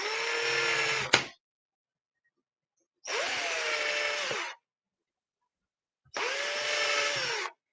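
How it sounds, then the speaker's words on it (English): A power drill drilling holes in tags runs in three separate bursts of about a second and a half each, whining steadily, close by, with silent pauses between. "since I had my drill here, it was just so much easier just to go real lightly like that"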